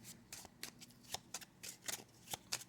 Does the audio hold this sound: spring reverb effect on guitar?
no